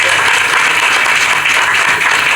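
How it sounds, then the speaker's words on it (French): An audience applauds the visiting mayor of Porto Novo at a May Day gathering in Libreville, a dense, loud burst of clapping from many hands, close and continuous. "Vraiment, applaudissez encore pour lui."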